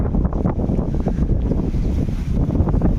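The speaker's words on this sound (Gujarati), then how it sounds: "જો કેવી ડમરી ઉડે હવા" Strong gusty wind kicks up dust in a village, roaring and buffeting the microphone, a continuous low rumble with no talking.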